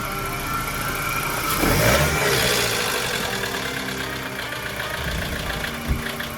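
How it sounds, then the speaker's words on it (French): BMW 316i engine running with a rattling timing or oil pump chain fault, a steady mechanical clatter and hum throughout, close and fairly loud, with a slight swell in the middle. "c'est clairement le bruit d'une chaîne qui claque"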